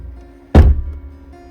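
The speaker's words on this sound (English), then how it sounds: "tuck it in, and kind of just slam the door" The door of a Skoda Fabia Estate set up as a camper is slammed shut, one loud close thud with a short dull rumble, otherwise quiet.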